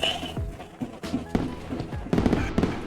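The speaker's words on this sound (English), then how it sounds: "Oh, here come the fireworks." Fireworks sound effect on a livestream: a series of sharp bangs and thuds at irregular intervals, dense and fairly loud, with crackling bursts toward the end and faint voices mixed in.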